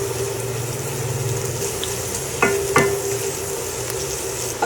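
Garlic and onion sauté in oil tinted with annatto for pancit palabok, giving a constant close hiss of frying with a couple of brief clinks of a utensil.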